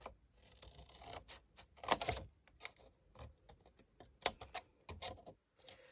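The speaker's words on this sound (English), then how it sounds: "Snip that little triangle off." Scissors snip through the flap of a paper envelope in a quiet, close series of crisp, irregular clicks and cuts, with one stronger snip near the start and no talking.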